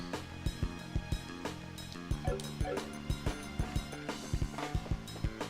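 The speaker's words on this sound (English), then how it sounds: "Hi, doggy." Short yipping dog barks from the Trails in the Sky video game repeat in a steady rhythm over a busy game music bed. They sound moderately loud and fairly near.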